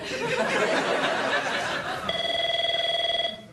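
A telephone rings on a late-night talk show set, cutting through crowd laughter and chatter with a steady, pulsing electronic ring that stops abruptly.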